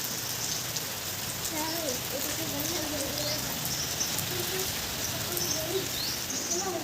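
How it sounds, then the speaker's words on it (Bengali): Heavy rain pours steadily in a dense, continuous hiss, with a voice speaking under the downpour and faint bird calls. "কি জোরে নেমেছে বৃষ্টিটা দেখো।"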